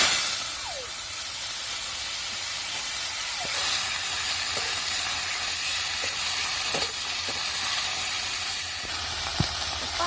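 Chopped dill greens sizzle steadily in hot oil while a fasting-day vegetable dish cooks, with a few faint clicks of stirring over the constant frying hiss and no talk.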